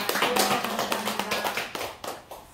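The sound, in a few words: congregation applauding in church service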